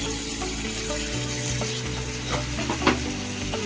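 Onion and tomato masala being stirred in a pan on a medium flame for butter beans and drumstick prawn thokku, a steady sizzle with a spoon scraping repeatedly through it, close and with no talk.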